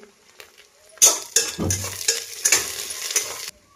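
Curry leaves hitting hot oil with crushed garlic for misal, bursting into a series of sharp sizzling crackles after a quiet start, with a few stirring and utensil clinks in between, close and loud, no talking.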